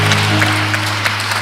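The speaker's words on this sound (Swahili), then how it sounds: "tuwashangilie na kwa makofi na nderemo" Congregation at a live Kikuyu church service clapping together, a loud, even wash of applause with a low steady hum underneath, brief and without speech.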